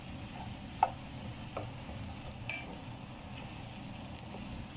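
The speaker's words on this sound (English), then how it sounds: "let it simmer, but I'm gonna slow the fire down to a slow medium fire" Fresh tomato and onion sauce simmering in a pan over a slow medium fire, a soft steady bubbling sizzle with a few faint clicks, quiet and close.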